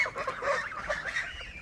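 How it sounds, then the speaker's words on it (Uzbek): Breeding geese on a breeding farm honk repeatedly in a noisy, overlapping chorus, fairly close and steady throughout. "Xohlasa g'ozlarimiz deyarli yaxshi"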